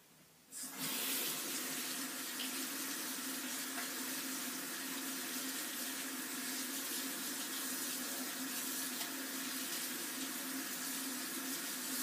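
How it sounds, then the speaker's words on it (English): Tap water gushes steadily into a sink while slime is rinsed off hands, starting abruptly and then running loud and unbroken with no talking. "Now I'm gonna have to go rinse off my hands and do that."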